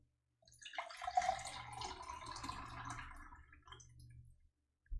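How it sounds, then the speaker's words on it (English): Water pours from a pitcher into a cup in a quiet room, a soft trickling splash lasting a few seconds that tapers off, faint and close. "Here's very normal water pitcher pouring water into cup sounds."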